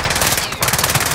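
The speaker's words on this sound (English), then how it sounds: "Oh, another one shooting somewhere." Automatic gunfire in a multiplayer battle royale video game, loud rapid bursts of shots close by filling the moment, with a brief gap before firing resumes.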